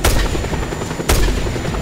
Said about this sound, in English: There's a machine gun shooting at me.